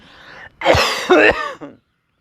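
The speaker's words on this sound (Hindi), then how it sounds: "खांसी आती है जी, खांस लीजिए" A couple of close, harsh coughs with a throat-clearing quality, heard alone in a quiet room.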